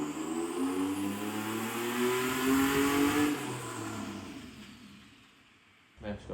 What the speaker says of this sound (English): Here it is, the second dyno pull, and it dropped a valve and disintegrated a piston.